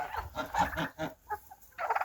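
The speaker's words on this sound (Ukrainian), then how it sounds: "Гусюньки, які дві красуньки." Two domestic geese in a barn give a run of rapid, nasal honks and cackles close by, in uneven bursts with brief pauses between them.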